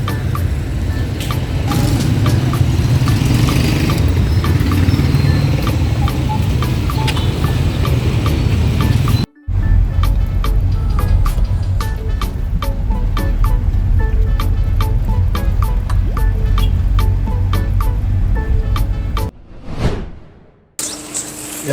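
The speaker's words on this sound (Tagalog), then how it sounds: "Maganda at malaki ang makina." New boat engine running with a loud, continuous drone, briefly cutting out twice, with faint talk in the background.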